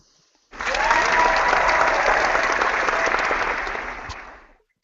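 Sustained audience applause at a comedy radio show, loud and steady for about four seconds with dense clapping, fading toward the end before a brief sharp sound.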